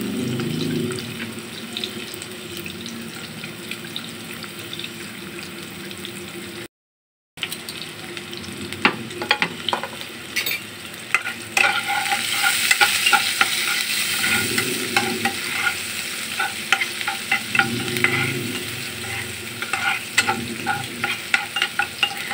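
Chopped onion frying in hot oil in a frying pan, a continuous close sizzle with frequent spoon scrapes and stirring clatter, briefly cut off partway before resuming louder and busier.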